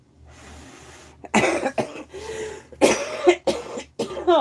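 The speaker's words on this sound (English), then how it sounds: "That's a smoker's cough." A smoker coughs in a run of harsh, rough bursts with throat clearing, close and fairly loud against a low background hum.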